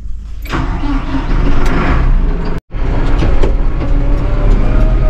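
A Valtra tractor engine runs steadily on a farm, a loud close rumbling drone with a brief cut partway through, no talk over it.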